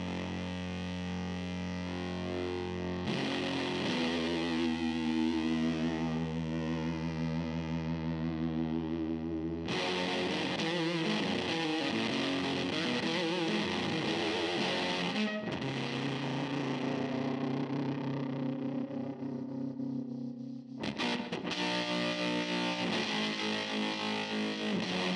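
An electric guitar with humbuckers played through a Pedal Pawn effect pedal, thick and heavily distorted with a warbling chorus-like shimmer, sustained chords and riffs ringing loud and continuous with brief pauses between phrases.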